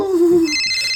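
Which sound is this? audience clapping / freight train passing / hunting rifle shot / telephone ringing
telephone ringing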